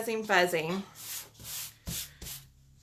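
A Chalk Couture chalk transfer is rubbed over a papier-mâché Easter egg before stenciling. A brief voice comes first, then several short, rough rubbing strokes with pauses between them, close and moderately loud.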